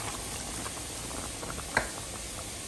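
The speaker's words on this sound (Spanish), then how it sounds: "lo vamos a dejar hervir, que se empiece a cocer" Diced potatoes with tomato puree and a little water boil in a pot, giving a steady, dense bubbling simmer close by with one brief sharp pop, and no voices.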